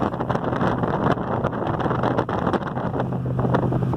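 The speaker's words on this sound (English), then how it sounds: "sorry about the wind" Steady wind buffeting a microphone, a continuous low roaring rumble with gusty flutter throughout, no talking.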